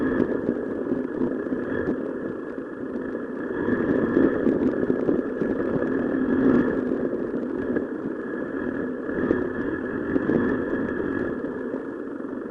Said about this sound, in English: Broken only by the engine, the wind, and the sound of tires fighting for grip.